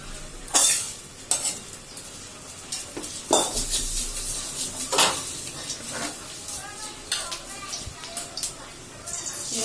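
Chopped onion and chili hit hot leftover fish-frying oil in a kadai and are stirred, giving a close, steady sizzle with repeated scraping clinks of a spoon against the pan.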